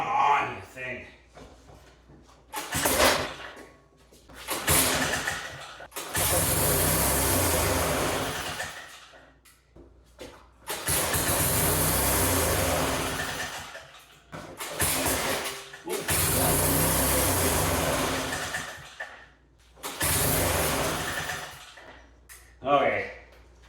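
An old engine with a brand-new carburetor that needs adjusting is cranked repeatedly, rough bursts of motor noise starting and dying in several attempts, with someone talking between tries.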